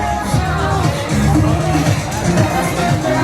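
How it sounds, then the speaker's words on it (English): Busy hubbub of a crowd at Disney California Adventure theme park, overlapping voices and chatter forming a loud, steady babble close around the listener. "as I try to make my way through this crowd"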